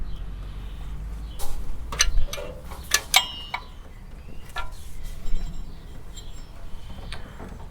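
A socket wrench ratchets under an Austin Ambassador car: close, clicking pawl bursts in short irregular spurts amid light metallic clinks, with no talking.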